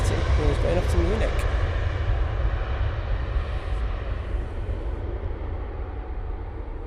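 An airliner departing Manchester Airport for Munich gives a steady, loud, broad jet roar that slowly fades over several seconds, with a person talking faintly underneath.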